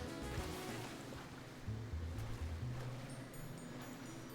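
Surfing across water on a Bibarel in Pokemon Brilliant Diamond: a steady rushing wash of water with low rolling swells surging underneath, all synthesized game audio with no voice.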